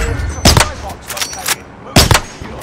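Video game gunfire from a Jack 12 automatic shotgun: two loud, close bursts of rapid booming shots about a second and a half apart, with fainter shots and game noise between them.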